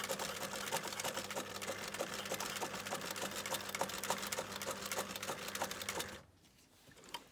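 A sewing machine stitches fabric for a shabby-style pencil pouch with rapid, steady mechanical clatter for about six seconds, then stops abruptly, leaving near silence.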